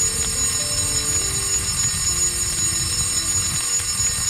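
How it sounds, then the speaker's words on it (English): A fire alarm rings steadily through a building in the visual novel The Fruit of Grisaia, a continuous shrill electronic tone held at an even level for the whole stretch, with no voices over it. "the shrill sound of the fire alarm began to resound throughout the building"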